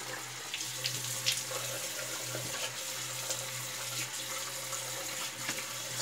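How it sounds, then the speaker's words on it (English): Warm water runs from a bathroom tap into a shaving mixing bowl, a steady, close splashing hiss with a low hum underneath, continuing evenly with no talking. "I got warm water in my mixing bowl."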